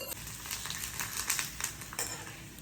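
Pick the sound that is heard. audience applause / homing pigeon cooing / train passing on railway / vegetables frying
vegetables frying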